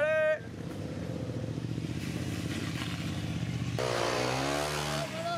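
A 250 cc off-road motorcycle engine whines steadily on a muddy trail, a sustained mid-pitched drone that rises in pitch toward the end, heard at moderate distance.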